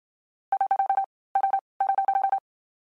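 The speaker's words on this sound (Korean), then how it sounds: "말숙은 관리사무소로 전화를 걸었습니다" A phone call to an apartment management office rings out as three bursts of rapid electronic ring pulses, separated by short pauses. The tone is clear and steady with no voices over it.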